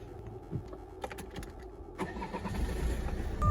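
A 2008 Citroen C5 engine cranks and catches at close range, settling into a steady idle after a few quiet clicks and shuffles inside the car.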